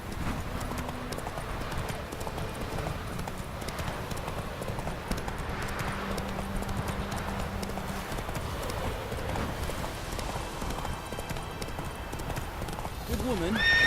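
Roach the horse gallops in The Witcher 3, fast continuous hoofbeats close and steady, with a voice talking over them at times.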